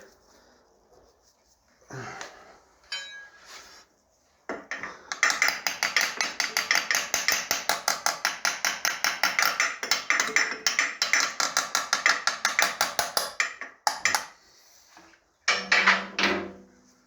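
Wrench ratchet clicking in a long steady run of rapid metallic clicks while tightening the oil filter on a 2008 Honda Shadow VT750C2 motorcycle to 26 Nm, with a few louder clunks of the tool before and after.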